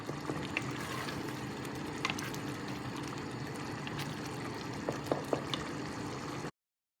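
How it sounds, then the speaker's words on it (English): Keema curry with minced meat bubbles steadily in a cooking pot, a constant close simmering texture with small pops, no talking. "As you can see, it's bubbling away, but it needs a bit more cooking"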